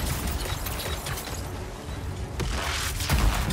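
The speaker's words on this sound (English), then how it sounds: "Explosion!" Explosions and bursts of combat noise in the video game Anthem, a dense, loud wash of booms and crackling pops running continuously with sharper hits near the end.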